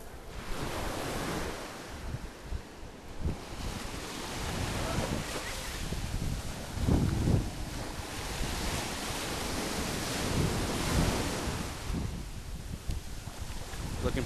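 Ocean waves rolling onto the shore at Okaloosa Island beach in Fort Walton Beach, near the pier, making a steady, continuous wash of surf with some wind rumble throughout.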